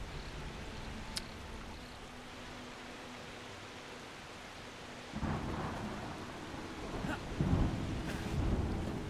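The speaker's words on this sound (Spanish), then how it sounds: "Se pone a llover." Steady rain hisses in the video game Smalland: Survive the Wilds, with rumbling thunder rolling in partway through and swelling louder toward the end.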